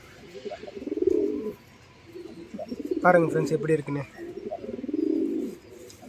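Pigeons of a classic breed coo in repeated soft, low throaty bursts at close range, several calls rising and falling over a few seconds while someone talks over them.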